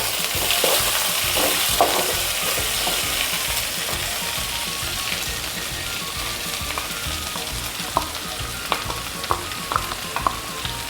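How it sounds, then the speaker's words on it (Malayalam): Jackfruit seed thoran being stirred in a sizzling pan after crushed coconut, garlic, cumin and green chilli go in, a steady frying hiss with scraping spoon strokes and a few sharp clicks against the pan near the end. "ഒന്ന് ഇളക്കി കൊടുക്കാം."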